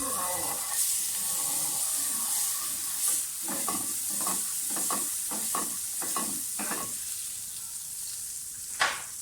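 Butter sizzles in a frying pan over a lowered flame for a bread and cheese egg omelette, a steady hiss with rhythmic scraping and stirring strokes, close and moderately loud, ending with a sharp clack.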